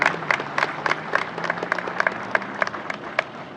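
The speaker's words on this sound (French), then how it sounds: "Merci d'applaudir, les clés sont là." Scattered, uneven clapping comes from a crowd at an official ceremony handing over keys, with individual sharp claps standing out over a low murmur and a faint hum.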